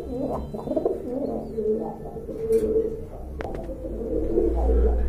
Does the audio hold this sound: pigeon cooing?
yes